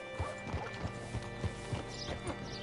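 Horse hooves clip-clop on the ground in Red Dead Redemption 2, making a few soft, uneven steps under a steady bed of ambient game noise.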